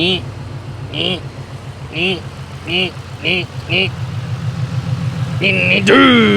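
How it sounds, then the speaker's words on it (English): A Ford Mustang GT engine cranks with a slow, rhythmic churn for several seconds before catching and rising into a running rumble near the end, while a voice sounds intermittently over it. "The car did not want to start. It started. It was a slow start."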